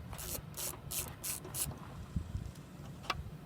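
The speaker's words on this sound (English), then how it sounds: "It takes a 1/2 inch socket, what we're using today," A ratchet fitted with a 1/2 inch socket backs out a mounting bolt, giving five quick bursts of clicking strokes followed by a few sharper metallic ticks, fairly quiet and close.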